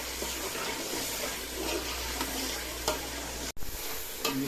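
Whole spices and about two spoons of dry coriander powder roast in a pan, giving a steady soft sizzle with occasional scraping stirs, alone without talk.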